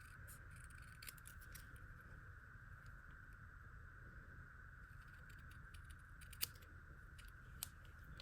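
Paper being trimmed with scissors while making a greeting card, faint quiet snips and small clicks over a low room hum, with a couple of sharper cuts near the end.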